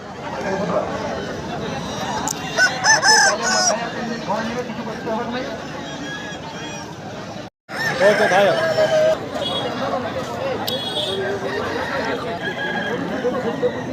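Native roosters crow among a crowd at a busy chicken market, their calls cutting through steady chatter and loud bargaining voices, with a brief break before the noise resumes.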